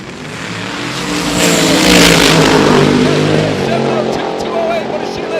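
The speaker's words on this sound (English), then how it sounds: "Right behind him, Alex Taylor in the twin turbocharged 55 Chevy" A twin-turbocharged 1955 Chevy on a drag run at Cordova Dragway, engine roaring loudly as it accelerates, swelling to a peak midway and fading slightly while an announcer talks over it.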